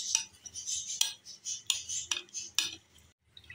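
A spoon whisks egg batter in a bowl, quick scraping clinks of metal against the dish in uneven bursts, close and clear, fading to quiet at the end.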